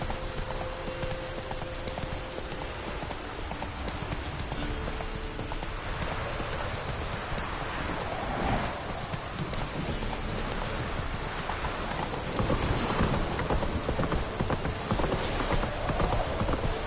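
The horse in the Witcher 3 video game galloping, quick rhythmic hoofbeats pounding steadily under a rain-like wash of ambient noise, growing slightly louder near the end, with no talk.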